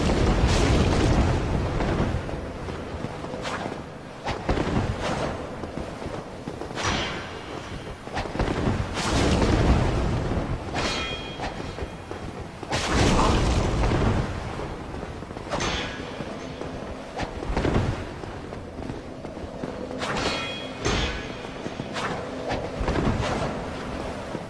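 Little bombs go off one after another in Dark Souls, loud repeated booming bursts with rumbling tails spread across a long stretch.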